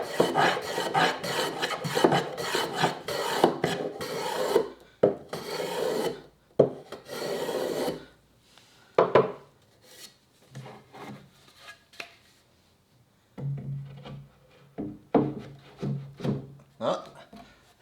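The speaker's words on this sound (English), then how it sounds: "I'm just going to put a bit of a chamfer on there so that it can roll in there a little bit" A rasp files a chamfer onto the wooden corner of a workbench's sliding deadman in bursts of rough, scraping strokes with pauses between them, close and fairly loud.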